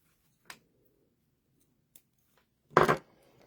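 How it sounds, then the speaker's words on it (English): Scissors snip sewing threads while making a cast iron pot holder handle: a couple of faint, quick clicks, then one louder, sharper cut near the end, with no talking. "let's snip our threads"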